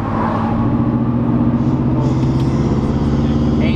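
A loud, steady car engine rumble roars close by, with a deep throbbing low end that holds throughout without pausing.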